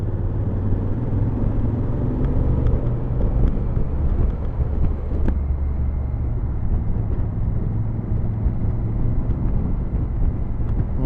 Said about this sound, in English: On the road with the 2016 Africa Twin.